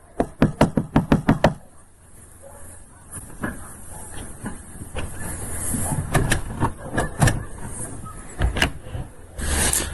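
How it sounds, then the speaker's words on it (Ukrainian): A rapid series of loud knocks on a door by police during a check opens the scene, followed by scattered further knocks over a low background hum. "Стучимо у двері, хай просипається."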